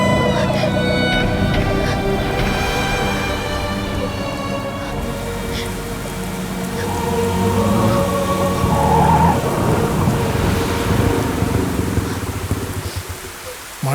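Heavy rain pours steadily on surfaces while thunder rumbles, loud and continuous, swelling in the middle and easing toward the end, with faint voices beneath it.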